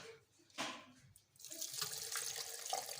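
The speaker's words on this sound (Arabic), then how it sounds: "ميه من الحنفيه بقى، ميه ساقعه" Cold water runs from a kitchen tap in brief spurts at first, then settles into a steady, close splashing stream for the final half, with no voices.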